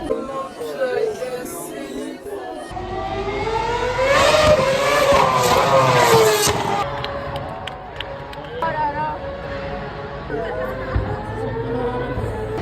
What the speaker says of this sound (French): Il y a une F1. C'est une Alpine.